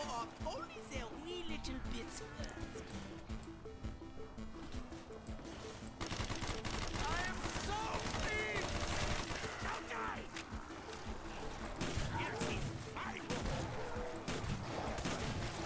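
Shotgun fire in Call of Duty: Black Ops 1 zombies mode, including a SPAS-12, comes as sharp repeated blasts within dense, busy game noise, with voices mixed in.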